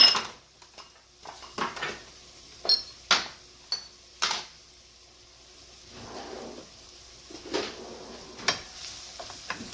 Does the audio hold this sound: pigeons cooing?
no